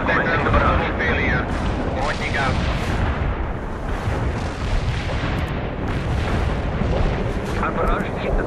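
Sustained artillery barrage in the World in Conflict video game, shells exploding in continuous rumbling, crackling booms, loud and dense throughout, with a voice talking over part of it.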